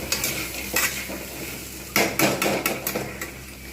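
Potatoes fry in a pan, giving a soft, continuous sizzle broken by several sharp scrapes and knocks as the pieces are stirred, with no talking.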